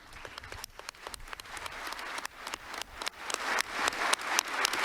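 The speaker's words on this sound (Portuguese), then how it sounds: "O aplauso com o consenso dos padres sinodais." Church synod members in an assembly hall break into applause, scattered claps that thicken and grow steadily louder over a few seconds.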